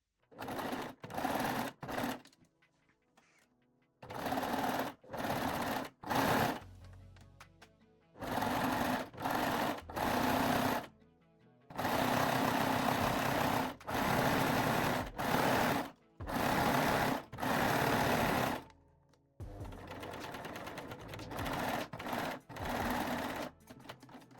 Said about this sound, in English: You can use cover stitch machine or zigzag or 3-step zigzag stitch.